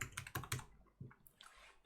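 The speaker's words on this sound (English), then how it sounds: "you click wherever you want your text and you start typing" Close-up clicks of keys on a computer keyboard come in a short burst of several quick strokes, then a pause and a few more scattered taps, loud and alone.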